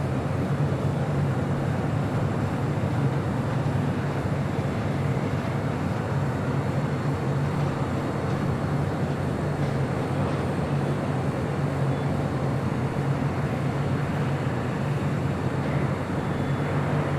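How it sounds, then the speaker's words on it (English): A McDonnell Douglas MD-11 airliner arrives at Los Angeles International Airport, heard as a loud, steady, broadband jet roar that holds constant throughout with no voices. "here I thought this MD-11 was going to fly over us. We will see it arrive on 25 left"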